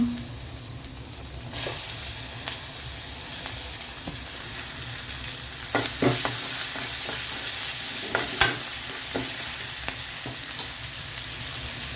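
Ginger and green chili fry and sizzle in a pan for kara kuzhi paniyaram batter made with wheat flour, a steady close crackle with a few sharp stirring scrapes and no talk.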